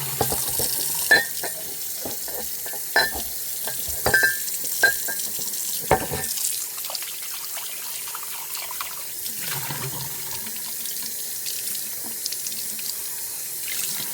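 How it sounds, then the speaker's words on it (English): Dishes are hand washed in a kitchen sink under a running tap, water streaming steadily with clinks and knocks of dishware early on, then a softer continuous flow and splashing. "Just going to go ahead and hand wash these."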